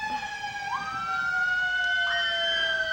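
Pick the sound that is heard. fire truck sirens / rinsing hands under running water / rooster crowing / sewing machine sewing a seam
fire truck sirens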